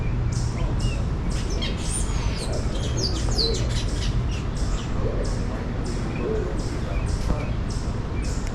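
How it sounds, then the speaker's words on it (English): Many birds chirp and tweet at a zoo in Atlanta, a dense chorus of short calls running throughout over steady outdoor background noise, with some human voices mixed in. "Birds just all over."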